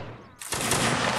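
Musket volley in Mount & Blade Napoleonic Wars, a sudden loud crack at close range that swells into a dense, crackling roar of many muskets firing together.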